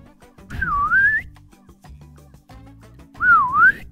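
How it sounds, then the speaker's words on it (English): Someone tries to whistle, producing two rising and falling whistled tones with a gap between them, each close and fairly loud over low background rumble. "That was me attempting to whistle and failing miserably."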